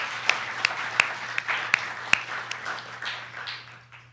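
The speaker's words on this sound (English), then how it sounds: "Let's give her a round of applause for her work." A small audience applauds a live painter after a psychedelic art Q&A event, with scattered, distinct claps standing out over a softer patter and a steady low hum underneath.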